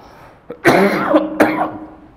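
A single throaty cough in two harsh bursts, close and loud, against a quiet background.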